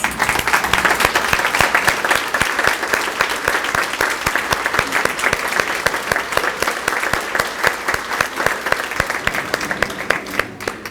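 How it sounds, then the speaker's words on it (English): Sustained applause from a ceremony audience honoring college faculty and staff, dense steady clapping throughout at close range, with no speech over it. "Let's give them a huge round of applause."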